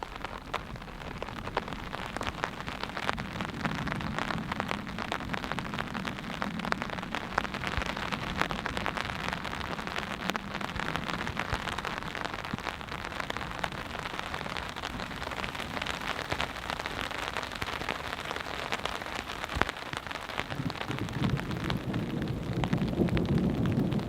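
Steady rain pours down on a campsite in a forest during a storm, a continuous close patter on surfaces with no talking.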